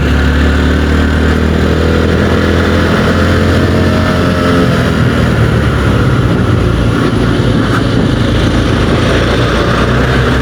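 A motorcycle rides along a road among trucks and cars near Sumedang, with a loud, steady engine drone and wind roar continuing throughout and no voices.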